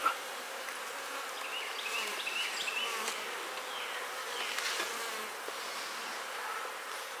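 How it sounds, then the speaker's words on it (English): Steady, close buzzing of many bees, a continuous insect hum with no other sounds. "I'm going to continue feeding these bees up here."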